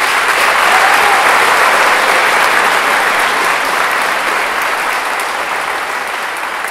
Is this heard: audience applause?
yes